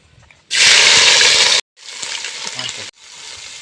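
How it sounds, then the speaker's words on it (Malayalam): Mustard seeds with crushed ginger and garlic dropped into hot oil, a loud bright sizzle erupting suddenly, then settling into a steadier crackling fry broken by brief pauses as the pan is stirred. "ഇപ്പോൾ നമ്മുടെ എണ്ണ നന്നായിട്ടൊന്ന് ചൂടായി വന്ന് ഇനി കടുക് അങ്ങിടാം"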